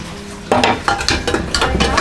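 Metal cooking pots clank and scrape as they are handled in a home kitchen, a series of close, sharp knocks and rattles after a brief quiet start.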